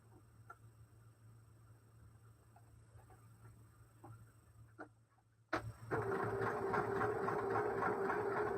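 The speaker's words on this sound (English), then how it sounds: "Fold it over. and then sew right down through there." A sewing machine stitches a seam through a quilt block, its motor starting after a quiet stretch of faint clicks and then running as a steady, close, loud whir to the end.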